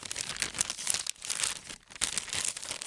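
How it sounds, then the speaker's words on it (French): Sealed ready-meal pouch of pasta bolognese slid into a flameless heater bag, a close plastic crinkling and rustling that runs almost continuously in short waves, no voices. "Vous glissez votre sachet sans l'ouvrir,"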